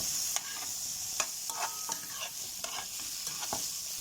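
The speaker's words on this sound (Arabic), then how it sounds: "شوية نحمس الجزر، حمسة حمس لا صوت عاوة" Steady sizzling of vegetables frying in a pan, with scattered clicks and scrapes of stirring, fairly quiet and close.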